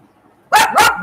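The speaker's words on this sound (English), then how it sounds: "Hey, don't bark at Sinner." A dog gives two quick, loud barks up close, back to back, in a room where a men's Wimbledon final tennis match is on.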